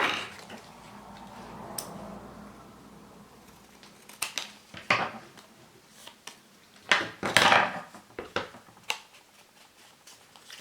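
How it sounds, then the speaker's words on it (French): Scissors snip through paper for a scrapbook mini album, giving a handful of crisp, close cuts spaced irregularly against a quiet room, with no talking. "Je vais la couper là."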